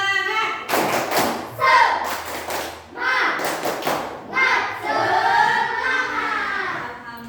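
A school class does a rhythmic clapping cheer, with bursts of sharp group claps in a patterned rhythm alternating with children chanting together in a classroom.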